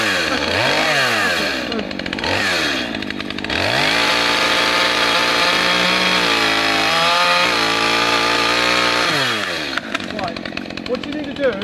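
A chainsaw revs up and down repeatedly at close range before and during the felling of a tree, its engine pitch climbing and dropping in loud, sustained bursts.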